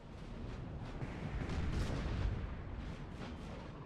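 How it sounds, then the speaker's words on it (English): Distant artillery fire rumbles across a Peninsular War battlefield in Napoleon Total War, a dense, continuous boom-laden roar with rolling low thuds, swelling slightly mid-way and no talking. "Ooh, artillery."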